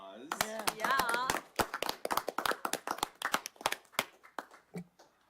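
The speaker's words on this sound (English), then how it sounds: "I think you guys deserve a round of applause" A handful of people at a parks and recreation commission meeting clap in scattered, uneven bursts that thin out and fade, following a brief spoken voice at the start.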